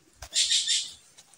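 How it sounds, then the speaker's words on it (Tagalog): A bird calls once near a river, a short, fairly faint high-pitched cry lasting about half a second against quiet surroundings. "May ibon."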